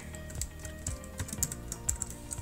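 Rapid typing on a computer keyboard during an Elixir programming session, with close, crisp key clicks in an irregular, busy rhythm and no voices.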